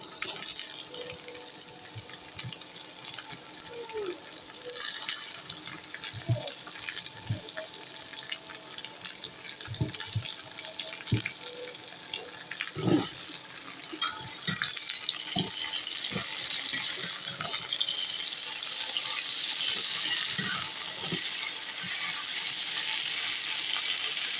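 Leafy greens fry in hot oil with onions in a home cooking pan: a steady sizzling hiss broken by scattered pops and soft clatters of stirring, with no voices.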